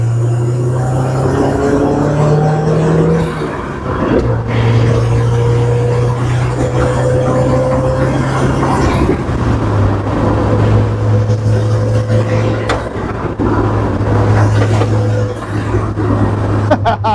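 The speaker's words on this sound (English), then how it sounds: "That turbo noise is just so awesome." A turbocharged Geo Tracker engine drones steadily at a low pitch, rising and settling as it shifts through the revs, with a faint airy turbo whoosh over the top.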